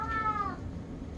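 A cat gives one short, clear meow at close range, rising then falling, with no talk over it.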